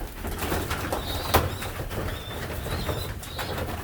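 Pigeons at a loft trap, with soft cooing and bursts of wing flapping, one sharp flap standing out, over a steady rustling background close by.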